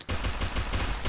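Rapid automatic gunfire rattles continuously in the Free Fire video game, a dense, loud burst of shots lasting about a second.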